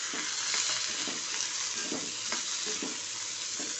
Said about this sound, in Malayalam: നമുക്കിതിലേക്ക് ചെറുള്ളി ഇടാം ചെറുള്ളി നന്നായിട്ട് വഴറ്റാം